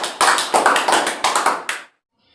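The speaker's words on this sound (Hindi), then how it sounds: "अरे साइलेंट क्यों हो, बजाओ ताली।" Hands clapping in applause at a school welcome, a quick burst of sharp, loud claps in uneven clusters lasting under two seconds, then abrupt silence.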